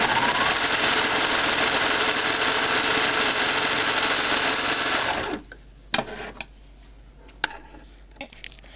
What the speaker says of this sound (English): I'm going to switch the serger to where it doesn't cut the fabric